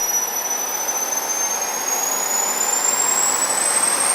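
A small jet turbine engine spools up in RPM, a loud, steady roar with a thin whine that climbs gradually in pitch, heard close and alone.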